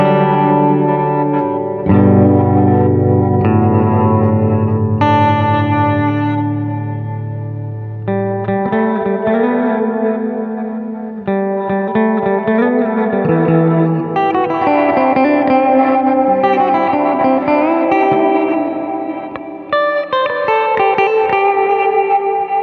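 Glitchy, stuttering reverb from a Walrus Audio Mako Series R1 reverb pedal washes over a played guitar, with chopped, shimmering repeats and distorted sustained tones that shift in fidelity over a loud, continuous stretch.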